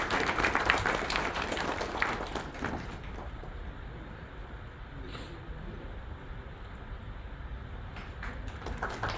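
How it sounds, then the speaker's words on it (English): Conference audience at a national conclave applauds a speaker, a loud burst of clapping that fades to a quieter room murmur with a few knocks, then rises again briefly at the end. "A warm round of applause for Mr."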